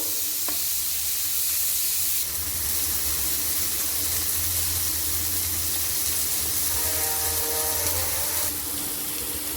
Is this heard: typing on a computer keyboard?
no